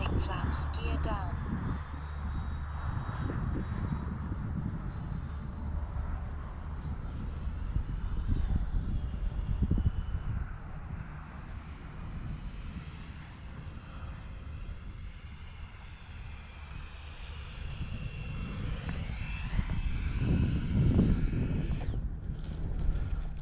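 A Freewing L-39 Albatros RC jet's ducted fan whines steadily at three-quarter throttle on its landing approach with flaps and gear down, the sound swelling and fading as it passes, while someone talks nearby.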